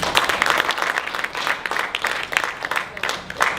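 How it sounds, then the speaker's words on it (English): A comedy club audience claps in a thin, scattered burst, nearby hands patting unevenly for a few seconds with no steady rhythm. "let me hear you clap if you're over 40."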